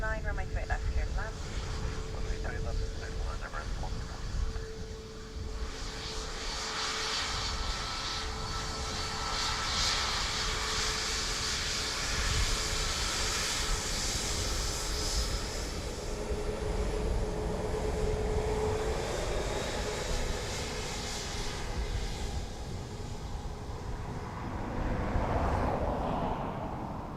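An Emirates airliner coming in to land on runway 28 left at Dublin Airport, a steady broad engine roar with a whining tone that swells gradually, heard from a distance while a voice talks over it.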